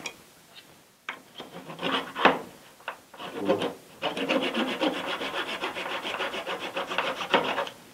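A wooden cake dowel for a two-tier cake is trimmed with close, loud rasping saw strokes, first in short irregular bursts, then a steady rapid back-and-forth run, no talking.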